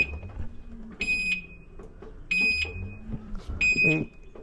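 An electric motorbike's alarm blares in three repeated piercing beep bursts, with low voices and background noise between them.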